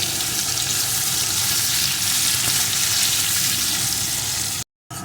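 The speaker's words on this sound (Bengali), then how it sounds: "এখন পেঁয়াজ কুচিটা প্রথমে সুন্দর করে ভেজে নেব" Two medium chopped onions frying in hot oil, a dense, loud, steady sizzling hiss close up that runs unbroken before a brief cut of silence near the end.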